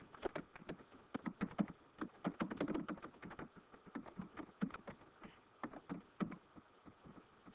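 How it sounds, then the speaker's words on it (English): Rapid, uneven clicking of a computer keyboard being typed on up close, in quick bursts with brief pauses. "you would just simply begin typing"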